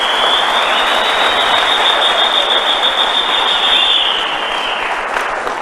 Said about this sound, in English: I'd like us to give them a round of applause.